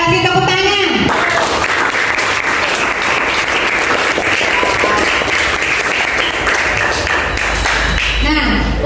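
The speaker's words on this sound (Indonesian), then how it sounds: "Kita kasih tepuk tangan." Classroom applause from a group of students, dense and sustained clapping for about seven seconds, with voices heard briefly before and after.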